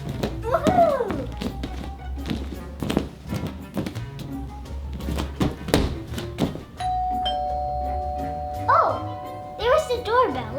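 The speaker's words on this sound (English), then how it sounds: "Oh, there was the doorbell." A doorbell chimes in a home, sounding as two clear sustained tones near the end, after a stretch of tapping and knocking sounds with a voice talking earlier.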